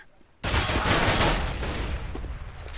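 Sudden burst of rapid gunfire in CS:GO breaks in loudly after a quiet moment and continues as dense overlapping shots, with faint talk underneath.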